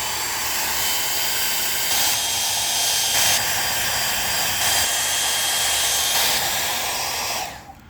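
A Conair 1000 hair dryer blows steadily on the grille badge of a 2015 Subaru WRX, a loud, continuous close-up roar with slight swells in intensity before it cuts off at the end.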